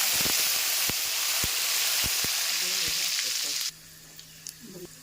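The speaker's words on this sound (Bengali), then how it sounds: "তেলটা গরম হয়ে গেছে, এবার তেজপাতা দিয়ে দিব।" Bay leaves dropped into hot oil for a vegetarian mixed-vegetable dish give a loud, bright, steady sizzle with a few sharp crackles and pops, then the hiss stops abruptly near the end, leaving a quiet hum and light clinks.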